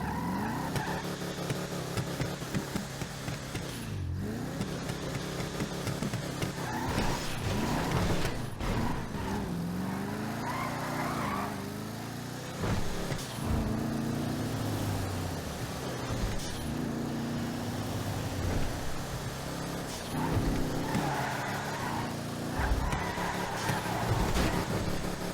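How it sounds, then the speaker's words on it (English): An Albany Lurcher car in GTA Online revs and drives continuously, its engine note rising and falling through gear changes, with tire squeals and skids mixed in. The sound is steady, loud and close throughout, with no talk. "we got to do the sound test of the car, so I'm going to let you guys hear what this thing sounds like."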